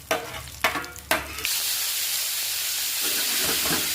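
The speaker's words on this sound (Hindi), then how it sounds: "ये काजू फ्राई हो रहे हैं हमारे" Cashews frying in oil for veg pulao in a kitchen cooking a food-delivery order: three sharp metallic clanks of stirring open the sound, then a loud, steady hissing sizzle takes over and holds to the end.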